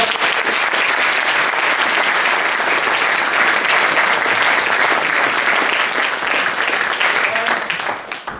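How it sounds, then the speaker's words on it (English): Loud, dense audience applause after a live demonstration for a seated crowd, continuous clapping from many hands filling about eight seconds before tapering slightly at the end. "big round of applause for the"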